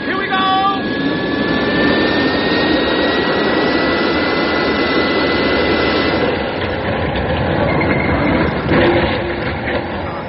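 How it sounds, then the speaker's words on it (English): A spacecraft's crash landing in a radio drama comes as a loud, sustained roar with a descending engine whine, ending in a rough, rumbling impact surge. "Stand by for crash landing."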